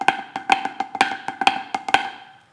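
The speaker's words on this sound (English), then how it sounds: "Do your Flam accents sound like this?" A snare drum plays flam accents: crisp, bright strokes in a steady repeating pattern, each main hit preceded by a soft grace note, close and alone, ending in a short ringing decay.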